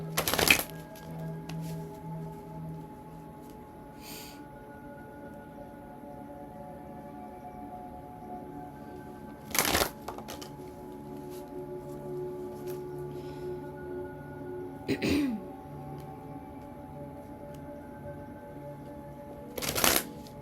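Tarot cards being shuffled for a reading, a soft continuous papery riffle and rustle with a few sharper card snaps at intervals, close and fairly quiet with a steady low hum underneath.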